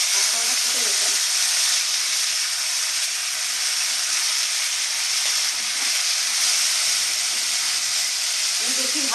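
Cumin paste sizzling in hot oil as prawn curry with drumsticks is cooked Bengali style, a loud, steady broadband hiss that continues unbroken and close for the whole stretch.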